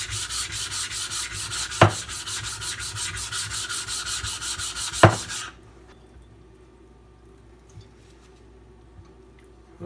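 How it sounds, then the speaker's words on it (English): Spyderco Para 3 knife blade being sharpened on a diamond plate, giving rapid, rhythmic rasping strokes close by for about five seconds, with two sharp clicks, before stopping into near silence with faint light taps. "I think I'm going to hit this side with my diamond plate"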